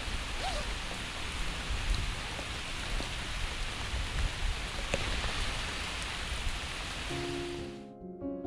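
Steady rainfall in the French countryside along the Eurovelo 6 cycle route between Cronat and Paray-le-Monial, a continuous soft hiss of drops on surfaces, moderately quiet, with a brief tonal sound near the end.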